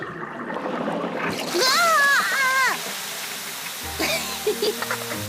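Splashing water spraying in bursts from a garden hose, with high-pitched cartoon voices talking and shrieking over it.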